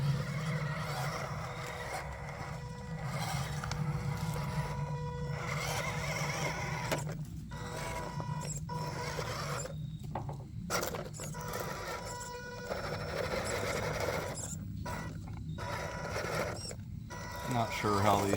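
A cheap 1/12 scale MN168 1970 Range Rover hard-body RC car drives on a test run, its small motor and gears whirring steadily and close for the whole stretch, with a few brief dropouts.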